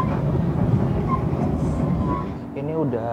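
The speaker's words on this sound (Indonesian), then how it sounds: "kereta api Brawijaya baru nyampe di stasiun Malang" The KA Brawijaya passenger train pulls into Malang station, a steady low rumble that eases off, with announcements or voices audible over it toward the end.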